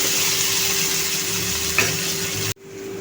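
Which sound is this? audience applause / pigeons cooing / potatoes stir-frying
potatoes stir-frying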